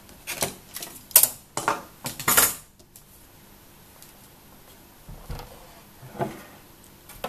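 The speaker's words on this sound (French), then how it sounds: "Je prends ma Big Shot." Big Shot die-cutting machine being cranked: a quick run of sharp clacks and ratcheting clicks, then a quieter pause with a few softer knocks, close and alone without talk.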